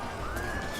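A single horse whinnies in the video game Total War: Arena, short and fairly faint, with a falling tone over a low background rumble.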